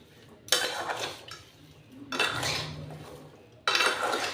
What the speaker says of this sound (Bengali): আবারও ভালো করে সবগুলো মিশিয়ে নিচ্ছি।